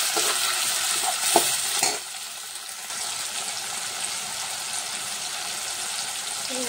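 Tomatoes sizzle in a pan with salt, a steady close frying hiss with a few brief stirring clatters near the start.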